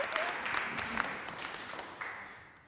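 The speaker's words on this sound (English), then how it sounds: "Can we give Alastair a round of applause to kind of just say thank you to him?" Audience applause at a church gathering, thin and moderately faint, fading gradually with a few distinct claps and some faint voices underneath.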